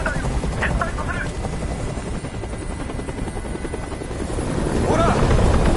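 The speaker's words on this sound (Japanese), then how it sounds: "あのヘリコプターをどこかにやってくれ。" A helicopter's rotor in the video game Detroit: Become Human thumps loudly and steadily overhead, growing stronger toward the end, with faint voices mixed in.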